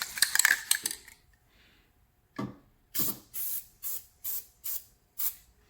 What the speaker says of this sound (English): I'll spray the other terminal with it